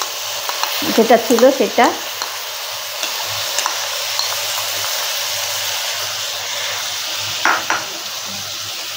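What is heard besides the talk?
frying taro stolons with mustard paste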